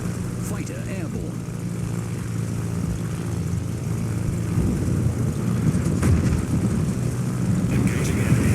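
Fighter aircraft in the naval combat game World of Warships, a steady propeller-engine drone that builds in loudness over several seconds, mixed with low rumbling game noise and no speech.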